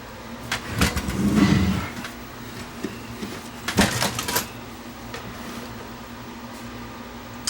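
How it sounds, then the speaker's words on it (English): A Sony VO5850 video cassette recorder, suffering a no-tape-movement fault, is tipped over onto its side, giving two separate bursts of nearby clunks, knocks and rattles against a steady low room hum, with no talking. "So let's turn the machine on its side."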